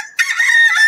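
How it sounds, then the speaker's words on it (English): A rooster crows loudly and close by, one sustained bright call that starts abruptly and rings without a break to the end, with no voices over it. "The rooster."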